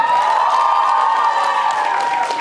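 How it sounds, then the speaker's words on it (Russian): Audience applause and cheering at a geek convention after a Saberia fencing studio stage-combat performance in Tomsk, a dense, steady wash of clapping and crowd noise throughout. "Ваши аплодисменты!"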